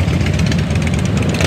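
Motorcycle engines idle and rumble at a bikers' Friday ride in Kuwait, a dense, loud, continuous low drone with no break and no talk over it.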